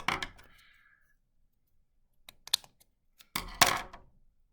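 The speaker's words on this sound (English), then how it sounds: "I need to cut a little bit more." Scissors trim the ends of a snowflake crystal ornament: a few crisp separate snips, one at the start, a light cluster a couple of seconds later and a louder pair near the end, close by with quiet gaps between.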